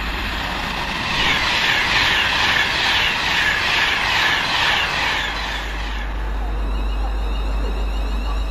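A London Midland electric train pulls away from Hemel Hempstead station on the service from London Euston to Tring, its loud rising motor whine and rumble heard close and steady, fading somewhat toward the end.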